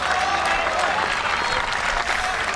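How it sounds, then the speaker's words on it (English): Spectators at a WTA 125 women's tennis match in Mumbai applaud, a dense, steady burst of clapping from a crowd that fills the whole moment, with some voices mixed in. "the crowd claps because the local favorite has just delivered that really great forehand"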